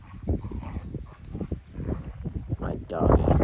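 Dogs play and bark indoors in a scuffle of growls, yips and thumping paws, with a person talking over the commotion at close range.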